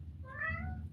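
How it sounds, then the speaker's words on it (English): A house cat gives a single short, plaintive meow to be let in, clear and fairly close over a low background hum. "You hear my cat? My cat's like, let me in."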